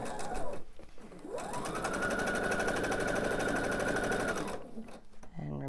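A sewing machine stitches a quilt block seam with a backstitch, a fast steady mechanical whir that starts after a brief pause, runs several seconds close and loud, then stops, with light handling noises around it.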